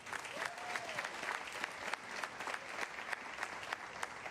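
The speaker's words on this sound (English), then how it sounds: "you can give applause to that" Audience applause at a mayor's education announcement on the first day of school, a moderate steady patter of clapping from a crowd heard at some distance.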